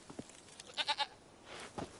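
Three quick, close bleats from a horned, hoofed goat in The Witcher 3 video game, followed by fainter rustling and a softer call over quiet in-game ambience.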